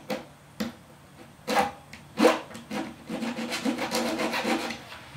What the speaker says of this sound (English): A little bit of a file